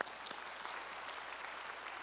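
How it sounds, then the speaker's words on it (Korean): A church congregation applauds quietly, a faint, steady patter of clapping from a distance for a couple of seconds. "네, 박수 치셔도 돼요"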